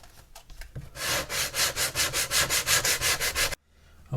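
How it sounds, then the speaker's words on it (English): Sandpaper rubs back and forth on the wooden stern of an HMS Victory model ship, a steady run of about a dozen close, rhythmic rasping strokes after a few light scrapes, then stopping abruptly. "All I'm going to do is just keep sanding until these square sections all just flow smooth"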